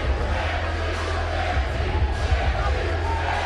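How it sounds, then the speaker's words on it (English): Arena crowd at a UFC fight between Justin Gaethje and Brian Foster, on their feet after the finish, roaring in a dense, steady wall of voices with rhythmic chanting swells throughout. "This crowd is on their feet. They are chanting Gaethje, Gaethje, Gaethje."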